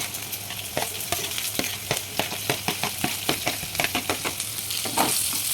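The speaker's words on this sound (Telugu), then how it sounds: "ఆనియన్ పచ్చిమిర్చి కూడా వేసేసుకుంటున్నాను." Chopped onion and green chillies sizzle steadily in a hot pan, with a frying hiss throughout and regular scraping stir strokes punctuating it at close range; no one speaks.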